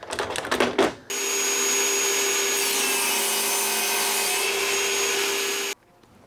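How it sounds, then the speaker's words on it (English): A table saw cuts through a piece of wood guided by a miter gauge. The blade's steady, loud whine rises as it bites the wood for several seconds, then stops abruptly, with brief knocking and handling noise just before. "So I'm going to get this bit of wood cut down on the table saw"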